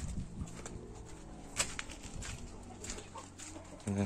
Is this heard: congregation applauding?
no